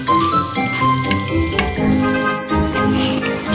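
Food frying in a cooking pot while making cheesy menudo, a loud, steady sizzle that runs unbroken from start to finish with no voices.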